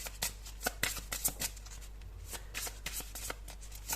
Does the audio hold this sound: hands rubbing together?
no